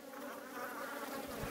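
Honeybees massed in a hive in September give a dense, even buzzing hum close by, steady throughout with no voices.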